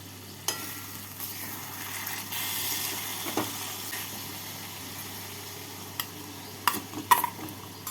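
Mutton keema tossed with fried potatoes in a pan over a medium flame makes a low, continuous sizzle, with scattered spoon scrapes and clacks that grow more frequent toward the end.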